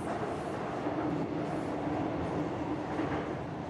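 A train rumbles steadily at a station platform in Persona 5: The Phantom X, a continuous loud mechanical roar of a railcar with no clear voices over it.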